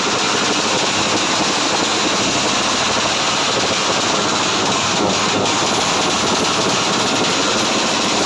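Raider 150 motorcycles with hubless wheels revved hard at a bike show, a loud, continuous, harsh engine roar that fills the whole stretch, with a brief sharper burst midway.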